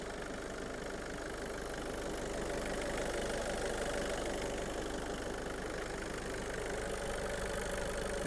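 A Skoda Superb engine idles steadily and evenly, a continuous low rumble with a faint ticking texture, close and fairly loud, with no talking.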